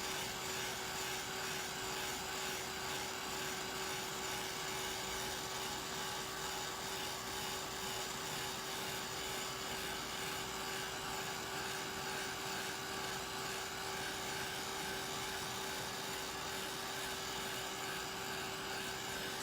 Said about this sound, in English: Sorry about the dryer.